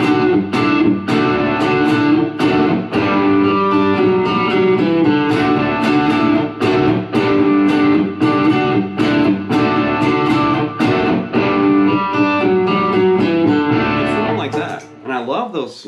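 Two complementary electric guitar parts play chords together, a steady, loud, strummed chord pattern that runs unbroken for most of the stretch before cutting off near the end.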